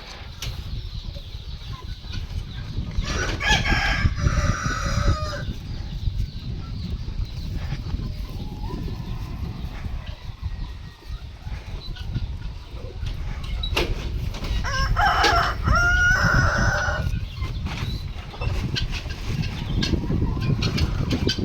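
Country roosters crow twice, loudly and close by, one long call early and another later, over a background of clucking hens and low farmyard noise at a poultry farm.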